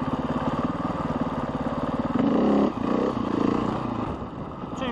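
A motorcycle engine chugs at a steady low idle during a slow wheelie, then two quick throttle blips swell briefly before it settles back to a loud, close, rhythmic thrum.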